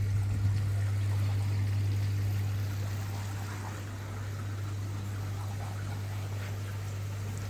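Water flowing steadily in a backyard fish pond, a broad continuous wash under a strong low hum, likely from a pump, with no talk.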